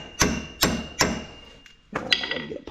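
Three sharp, evenly spaced hammer blows ring out close by as a wheel stud is driven out of a pickup truck's hub, then a pause and a couple of lighter metallic taps and clanks.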